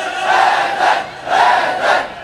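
A large crowd at a majlis in an imambargah chants 'Haidar' in loud unison, four rhythmic shouted waves rising and falling in quick succession.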